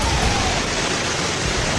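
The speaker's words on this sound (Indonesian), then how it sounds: "Di Bandung, hujan es." Heavy hail pounding down in Bandung, a dense roaring hiss that fills the air steadily and loudly with no break.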